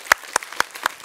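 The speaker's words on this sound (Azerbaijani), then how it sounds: "Alqışlayırıq" A studio audience on a Azerbaijani quiz show claps to welcome a guest, heard as a handful of sharp, evenly spaced claps close by with little crowd noise.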